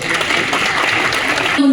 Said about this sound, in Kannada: ಒಂದೇ ಬರುವ ಜೋರಾದ ಚಪ್ಪಾಳೆ.